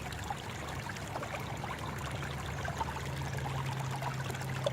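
Water streams steadily through a gold sluice box in a creek in Denver, Colorado, a continuous close rushing and trickling wash without any talk.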